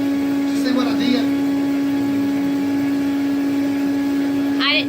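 A Rainbow vacuum cleaner runs with a steady, loud drone and a strong sustained hum throughout, while people talk over it.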